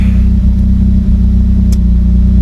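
A Ford Focus ST with an upgraded throttle body runs close by, a loud steady low engine drone that settles toward idle with no speech over it.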